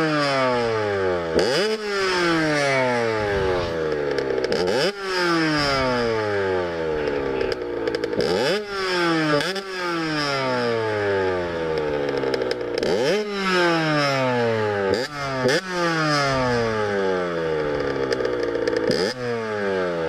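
A 2021 Honda CRF 250R dirt bike engine screams through repeated rising revs and gear shifts, loud and close, cycling in sawtooth surges for about twenty seconds with no talking.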